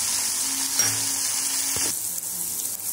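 Tomatoes sautéing in a pan for rava kichadi give a loud, steady close sizzle, with a brief scrape or stir near the middle and the frying noise settling slightly afterward.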